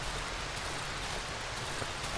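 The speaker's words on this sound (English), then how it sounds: "Maybe it's just the rain building up." Steady rain in the survival horror game Darkwood, an even, continuous hiss of falling drops with no breaks, close and moderately loud throughout, with no voices over it.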